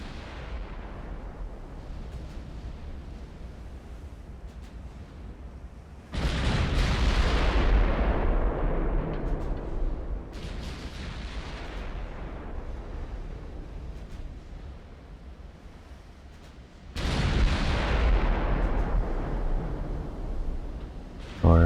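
Naval guns fire in the warship game Ultimate Admiral: Dreadnoughts: two heavy booming blasts with long rumbling tails, separated by a stretch of softer battle ambience and low wind-like noise.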